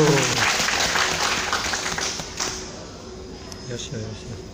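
Warm applause from a seminar audience at a parent-child classics reading workshop, a dense patter that fades gradually over a few seconds while voices talk over it.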